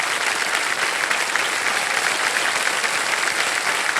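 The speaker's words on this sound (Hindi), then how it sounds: "हम चाहेंगे कि सारी जनता ताली बजाए इनके लिए" A studio audience on a televised quiz show claps in unison, a thick, even wall of applause that stays loud and steady from start to finish with no voices over it.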